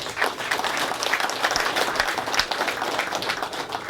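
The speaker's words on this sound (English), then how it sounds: "Let's have a round of applause for this young chap." An audience at a guitar clinic in a music store applauds a young volunteer, a steady burst of many hands clapping, close and fairly loud throughout.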